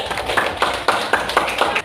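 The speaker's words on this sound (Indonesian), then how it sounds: "Ya, tepuk tangan buat ini." Classroom applause during an Indonesian-language lesson: a steady run of brisk, closely spaced claps from a group, fairly loud and near, with no talk over it.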